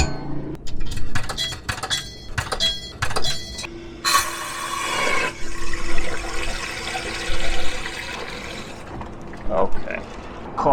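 A pump filling a 5-gallon water jug, with a gushing stream of water rising in the container after some clinks and handling knocks, steady and close, with a few brief interruptions.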